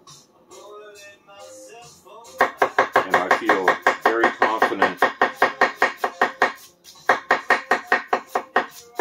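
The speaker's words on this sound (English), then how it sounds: "The taller shape can ride against your knuckles for this kind of chopping." A tall gyuto chef's knife chops food on a board in fast, even strokes: a long run of sharp, regular knocks, loud and close. Someone speaks briefly before the chopping begins.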